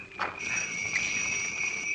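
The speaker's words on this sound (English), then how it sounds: "Hey, we really are out in the country. Listen to those crickets." Crickets chirp in the countryside as a radio drama sound effect, a steady, bright high trilling that holds throughout at moderate level, with a soft rustle near the start.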